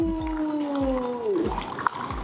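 A water purifier dispenses cold water with a soft steady trickle, joined by a falling electronic tone and faint clicks and knocks, with no voices.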